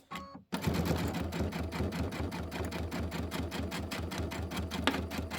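A home embroidery sewing machine starts after a brief pause and stitches a tile design in a fast, even rhythmic clatter with a low motor hum, close and steady, with no talking.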